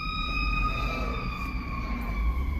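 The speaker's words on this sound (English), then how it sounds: "ambulance" A wailing emergency siren sounds steadily and fairly loud over low traffic rumble, its tones sliding slowly, heard from a passing ambulance.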